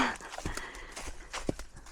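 Faint hooves of a horse worked in long reins clop at a slow walking pace, irregular soft knocks over quiet outdoor background.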